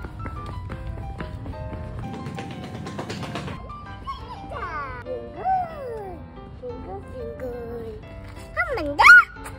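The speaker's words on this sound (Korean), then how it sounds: "멍멍이 소리 나네?" A dog yips and whimpers in the distance at a historic palace site during a night opening, with high whining cries rising over nearby chatter and footsteps as adults and a toddler talk.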